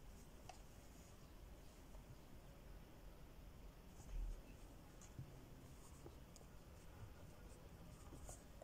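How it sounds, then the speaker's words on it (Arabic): Pen or marker scratching steadily as someone writes by hand during an Arabic grammar lesson, faint and close, with soft ticking strokes over a quiet hiss. "وأيضا راح أكتب"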